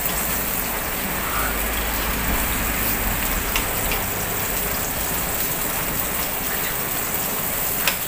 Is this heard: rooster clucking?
no